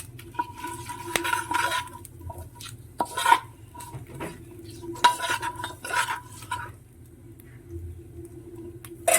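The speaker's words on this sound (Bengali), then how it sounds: "তেলটা গরম হলে আলুগুলো দিয়ে দেবো" Potato pieces stirred in hot mustard oil with cumin and bay leaf, a metal spoon scraping and clinking against the pan in irregular strokes over a soft, steady frying hiss.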